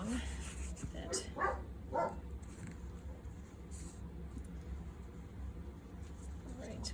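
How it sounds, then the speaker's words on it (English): A dog barks a few times in the background during the first half, faint and intermittent while a person talks over it nearby. "Sorry if you hear my dog."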